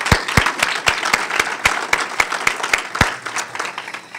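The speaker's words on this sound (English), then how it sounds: "So let's give them all a round of applause." Audience applause at a city council conference, with a number of distinct, loud individual claps standing out over a lighter, uneven patter of hands.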